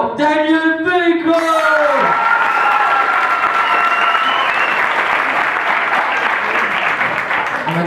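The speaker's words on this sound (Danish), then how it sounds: "Og man kan jo tydeligt høre, at vinderen det er Daniel!" Live audience applause with cheering and whoops during a vote for baby of the year, loud and sustained, following a brief stretch of a voice bellowing or shouting at the start.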